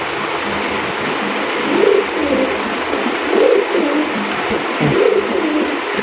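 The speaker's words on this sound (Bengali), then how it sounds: "একদম টপ কোয়ালিটির একজন নান কবুতর রয়েছেন ভাই" A Nun breed pigeon coos in low, rolling bursts about three times, spaced a second or so apart. The coos are close and rise above a constant background hiss.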